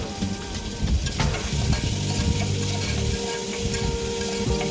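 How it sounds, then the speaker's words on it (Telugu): Chopped tomatoes fry in a pan, giving a continuous close sizzle while a spoon scrapes and stirs through them in irregular strokes. "ఇలా వేగిన తర్వాత ఇందులోనే మనం కట్ చేసి పెట్టుకున్న టమాటా కూడా వేసుకొని కలుపుకోవాలి"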